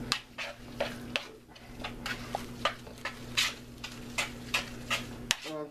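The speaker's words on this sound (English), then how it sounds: "So we're just going to pre-stir for the rest of the stuff" A spoon stirs a tuna mixture in a bowl, soft irregular scrapes and light clinks at close range over a steady background hum.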